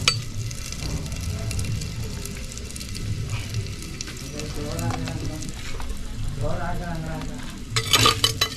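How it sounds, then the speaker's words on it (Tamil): Onions with mustard seeds sautéing in a clay pot, a continuous close sizzle with repeated scraping stirs throughout and a louder clatter near the end, with a voice briefly in the background. "வெங்காயம், இது போட்டு நல்லா வதக்கணும்."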